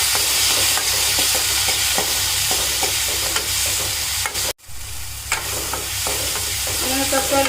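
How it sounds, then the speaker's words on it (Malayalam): Chopped tomato and onion fry in a pan with a steady loud sizzle, broken by repeated scraping stirs and a brief pause before the hissing resumes. "നമുക്കിതിനകത്തോട്ട് ഇനി നമ്മൾ അരിഞ്ഞ് വെച്ചിരിക്കുന്ന ഒരു തക്കാളി ചേർത്ത് കൊടുക്കാം. അതുപോലെ നന്നായിട്ടൊന്ന് വെന്ത് വരട്ടെ."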